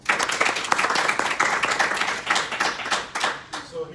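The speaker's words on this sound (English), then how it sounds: "Let's give her a round of applause." A small audience at a 1 Million Cups startup pitch event claps for a presenter, a close, uneven round of applause with audible individual hand strikes, tapering off near the end.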